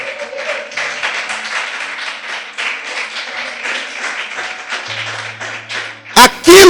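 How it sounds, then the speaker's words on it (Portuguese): A church congregation applauds during a Portuguese-language sermon, steady crowd clapping under a low hum, with a few loud bumps at the very end. "Você pode aplaudir a Jesus por isso?"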